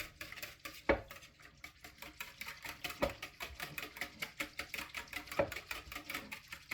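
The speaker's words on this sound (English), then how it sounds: "I'm gonna whisk this up." A whisk beats sugar into a bread dough mixture in a bowl, giving quiet, rapid rhythmic clinks and scrapes up close, with a few sharper taps on the rim.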